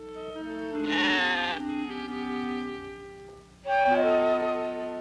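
Sheep bleating in two long, wavering calls, the first swelling then trailing off and the second starting loud after a short lull, close and clear with no talk.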